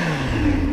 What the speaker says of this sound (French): Bah ça c'est le compresseur, d'accord?